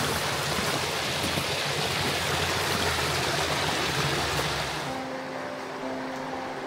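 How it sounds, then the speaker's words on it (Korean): A valley stream runs between snow-covered banks on a winter forest trail, a loud, steady rushing wash of water close by that eases slightly near the end, with no voices. "눈 사이로 계곡물이 흐릅니다."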